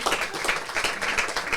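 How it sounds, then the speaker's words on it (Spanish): Brief burst of audience applause at a live stream event, dense close clapping that holds steady for a moment; no talking. "Un aplauso para el señor que se va."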